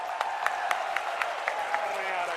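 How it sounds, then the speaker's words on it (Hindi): An audience at a Congress public rally in Morena claps to welcome Priyanka Gandhi, a dense burst of applause with sharp rhythmic hand claps standing out over a steady crowd wash. "एक बार प्रियंका जी के लिए जरा जोरदार तालियों से उनका स्वागत करें।"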